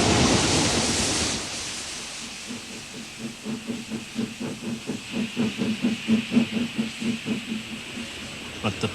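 A pair of steam locomotives on the Somerset and Dorset railway over the Mendip Hills open with a loud blast of hissing steam, then settle into a steady rhythmic chuff of exhaust beats growing gradually louder as they work up the gradient.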